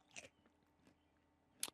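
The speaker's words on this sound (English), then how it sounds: "Can you hear the crunch?" Crunching bites of a snack close to the microphone, a few short crisp bursts spread across a quiet moment, the last one loudest.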